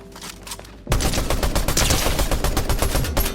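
Strike AR assault rifle firing in Fortnite, a fast string of loud, close shots in a steady automatic rhythm that starts abruptly after a quieter moment and runs about two and a half seconds, no voices.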